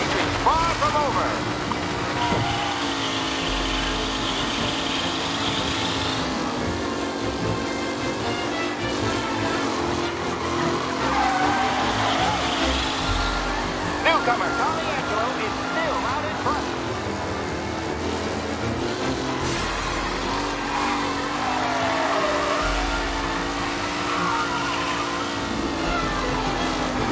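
Race cars roar steadily through the final lap of a race in the game Mafia: Definitive Edition, their engines droning loud and continuous while a commentator's voice talks over the engine noise.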